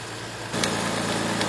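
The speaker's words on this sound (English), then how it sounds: "Now we have to let the engine run for 20 seconds" A steady low Audi engine hum settles into an even idle after a brief shift during a transmission oil change, constant and close with no voices.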